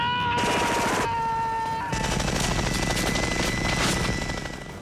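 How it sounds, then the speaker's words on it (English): A machine gun fires long rapid bursts, loud dense rattling that pauses briefly near the two-second mark and then continues, mixed with a high mechanical whine. "Shooting those many bullets coming through that gun"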